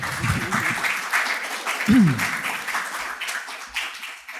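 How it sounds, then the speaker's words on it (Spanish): Audience applause for three guest speakers at a panel discussion on oral tradition: a steady, crackling patter of many hands clapping throughout, with a brief low voice or murmur near the start and midway. "Si quieren aplaudir, aplaudan por las 3 invitadas, claro."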